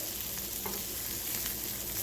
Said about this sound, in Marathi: तर मंद आचेवर आता हे मिक्स करून घ्यायचं आणि गॅस बंद करून टाकायचं.